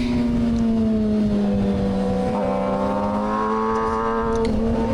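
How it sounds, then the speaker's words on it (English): Kawasaki ZX-6R sport motorcycle at speed on the Road Atlanta race track, its engine note dropping steadily as the throttle is closed, then briefly rising again, loud and continuous with wind roar and no talking. "you can kind of hear me cut off the throttle"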